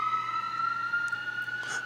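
A fire engine siren wails steadily at a fixed pitch with strong overtones, loud and continuous for the whole couple of seconds with no talk over it.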